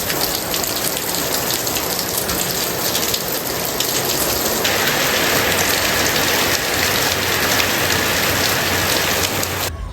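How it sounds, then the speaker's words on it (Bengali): Heavy rain pours down steadily, a loud, dense hiss of drops drumming on surfaces with no letup and no voices. "এখন আরেকবার দেখাই বৃষ্টি কতটা পরিমাণে হয়েছে"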